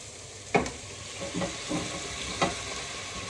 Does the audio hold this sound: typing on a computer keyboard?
no